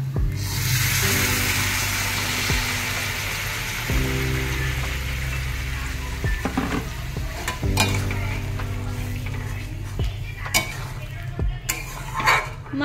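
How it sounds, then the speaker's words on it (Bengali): Aloo dum, a potato curry, is sautéed in a pan with a constant frying sizzle, broken by scraping stirs and sharp clinks of a spoon against the metal. "এই যে কষাচ্ছি, এখনই জল দেবো"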